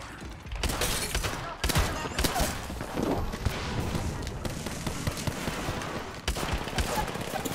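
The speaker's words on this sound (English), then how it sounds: "Opening fire. Taking fire." Dense video-game gunfire rattles almost nonstop in loud, rapid bursts, with a few sharper cracks standing out over a busy battle din.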